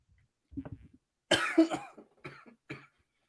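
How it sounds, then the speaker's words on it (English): A person coughs several times up close: a short throat sound first, then a loud burst of harsh coughs followed by two smaller ones. "Coughing?"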